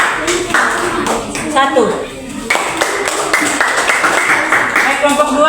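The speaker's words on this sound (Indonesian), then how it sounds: "kita berikan tepuk tangan dulu untuk kelompok" Classroom applause for a group of students, a burst of quick, bright claps that fades briefly then picks up again, close and fairly loud with talking layered over it.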